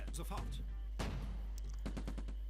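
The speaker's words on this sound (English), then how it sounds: "Of course, shooting at the watchtower full of evil snipers." Gunfire hits a watchtower full of snipers in a Stalingrad battle in a strategy video game, played on the Axis side. Sharp rifle and machine-gun reports come in quick irregular bursts, with a heavier crack partway through.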